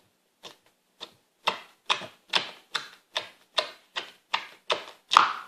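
Slime being pressed and squished by hand, about a dozen evenly spaced wet, crackling squelches that build slightly louder toward the end, close up with no talking.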